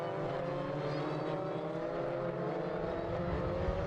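Mini rallycross race cars accelerating hard on tarmac, a steady loud engine drone with rising harmonic whine as they pull through the gears, continuous and fairly close.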